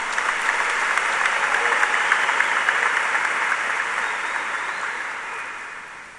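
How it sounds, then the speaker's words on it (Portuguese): Church congregation applauding together at a service, a loud, steady wash of clapping that holds for several seconds and then begins to fade. "Agora pode aplaudir."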